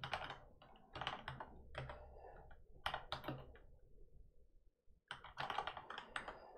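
Someone types a command on a computer keyboard, producing close, crisp bursts of rapid keystrokes separated by short pauses, with one brief silence before a final flurry.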